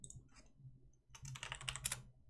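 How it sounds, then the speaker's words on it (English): Keystrokes on a computer keyboard during a Total War: Warhammer II tournament broadcast, a few soft taps followed by a quicker, louder burst of typing over a low background hum. "Just got to do a little typing here"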